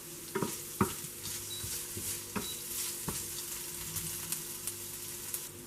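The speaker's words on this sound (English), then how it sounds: "Fry the onions till they get light brown in color" Chopped onion fries in a pan for a bitter gourd dish, a quiet continuous sizzle punctuated by a handful of spatula scrapes and taps at irregular intervals.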